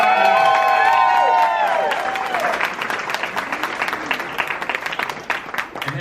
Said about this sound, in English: Before I start, let's all give a round of applause to Stephanie.